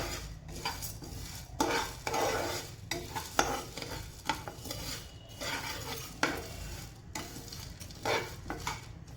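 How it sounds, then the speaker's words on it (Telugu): Coriander and sunflower seeds dry roasting in a pan, giving a steady rattling, scraping stir with faint crackle throughout, repeated spoon strokes at close range and no voices. "దాంట్లోనే ధనియాలు, వేసుకొని బాగా డ్రై రోస్ట్ చేద్దాం."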